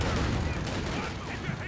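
Machine gun fire in the video game Company of Heroes 2, a dense rattling burst of gunfire that runs continuously through the short moment with no voices.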